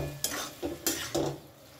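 A spoon scrapes and stirs ridge gourd with poppy seed paste and green chillies in a pan, four distinct strokes with soft sizzling beneath, close and alone.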